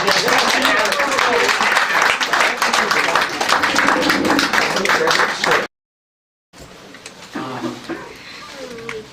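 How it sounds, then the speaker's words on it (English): An audience at a Brooklyn Black History event applauds loudly and steadily for several seconds, then breaks off abruptly; quieter scattered claps and room sounds follow after a short gap. "Give him another round of applause, please."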